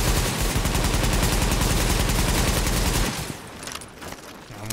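Rapid automatic gunfire rings out in a video game's Dark Zone, a dense continuous burst for about three seconds that then cuts off, leaving quieter scattered sounds.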